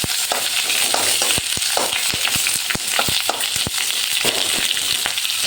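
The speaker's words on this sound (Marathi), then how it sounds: "आता कांदा एकदम चांगला परतला आहे." Three sliced onions sauté in a pan, with a steady hiss of frying broken by sharp scraping clicks from the spoon stirring at an irregular pace, up close and loud, without any voices.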